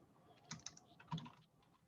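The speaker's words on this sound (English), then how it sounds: "Be typing this in." A few soft, quick keystrokes tap on a computer keyboard, quiet and close, with brief pauses between clusters.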